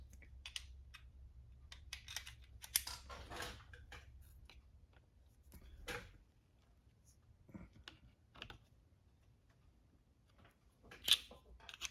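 Back plate on a 1967 Honda CT90 engine being loosened, with scattered light metallic clicks and taps at close range, irregular and quiet over a low background hum.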